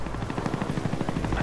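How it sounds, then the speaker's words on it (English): Chopper gunner helicopter in Call of Duty: Black Ops, a steady rapid rotor thump with fast rhythmic beats and a dense low rumble, fairly quiet and continuous with no speech. "I just use my chopper gun randomly"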